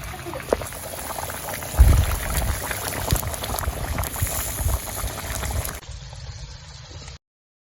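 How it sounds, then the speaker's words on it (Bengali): Fish curry broth at a steady rolling boil in a pot, a dense continuous bubbling with a heavier splash as fish pieces drop in, no talk, ending abruptly. "ঝোল ফুটে গেছে, এবার আমি মাছটা ছেড়ে দিচ্ছি।"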